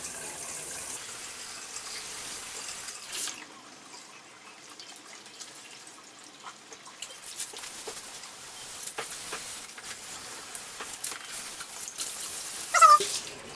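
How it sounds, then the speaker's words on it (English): Water from a jet tub or whirlpool bath is pumped through the jet nozzles into the pipes during cleaning, a steady low hiss and gush with scattered splashes and drips, fairly faint and continuous. "Make sure you put the nozzle straight so you can pump the water actually straight into the pipes."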